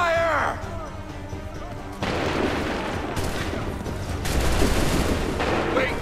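Musket volleys fire in Assassin's Creed III, loud crackling bursts of gunfire that start abruptly and roll on in dense waves, with a shouted voice briefly heard at the start.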